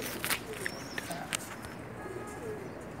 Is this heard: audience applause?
no